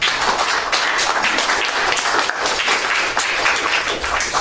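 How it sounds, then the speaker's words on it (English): A panel audience breaks into loud, sustained applause, dense clapping holding steady from start to finish with no voices over it. "If you could all welcome everybody with a round of applause."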